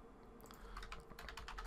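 Short burst of typing on a computer keyboard, quick soft key clicks at close range with no speech.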